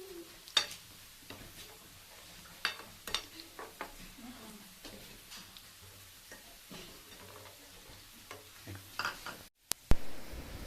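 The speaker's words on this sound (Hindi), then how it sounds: "अब हम इसमें थोड़ा ज़ीरा डालकर" Cumin seeds frying in hot oil with browned onion and garlic for a dal-rice tempering, giving a soft sizzle with scattered crackles and occasional stirring clinks, close and fairly quiet, with no talk.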